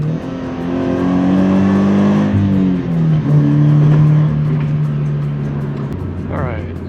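A Toyota 86 engine pulling steadily under throttle while driving, a sustained droning tone that rises in pitch, dips briefly as if shifting, then climbs again.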